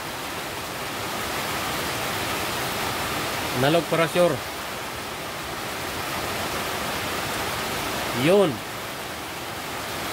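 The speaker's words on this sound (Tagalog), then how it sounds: "Pasensya na, yung lumakas yung ulan." Heavy rain pours steadily through the whole stretch as a broad, constant hiss, with someone speaking briefly over it in a few short bursts.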